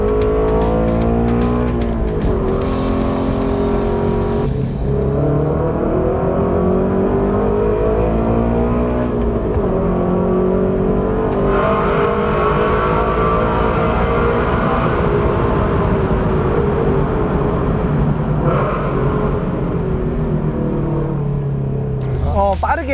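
A Mercedes-AMG four-cylinder engine of about 421 horsepower revs hard, its loud, steady note rising and falling through repeated pulls, with someone speaking over it.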